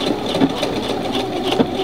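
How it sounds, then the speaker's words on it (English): A sewing machine stitches a men's tie from Simplicity pattern 4762 toward its very end, running as a steady, fairly loud motor hum with faint rhythmic pulses throughout and no voices. "And now I'm just going to sew to the very end of my tie."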